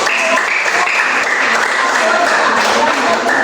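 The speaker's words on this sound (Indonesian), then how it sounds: "kita berikan aplaus untuk" Applause fills a classroom for a student group called Kamboja, a dense, steady clatter of many hands held at even loudness for the whole stretch, with some voices mixed in.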